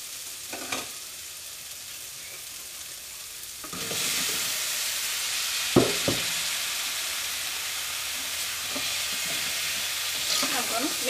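Cauliflower stirred into a frying tomato masala for a Kerala curry: a few quiet scrapes, then a louder steady sizzle from around four seconds on, with a sharp utensil knock midway.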